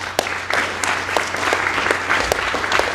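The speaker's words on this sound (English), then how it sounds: "one more round of applause for Zaki." Conference audience at a live Cosmos privacy event applauding steadily for a few seconds, a dense patter of claps with scattered louder hand strikes.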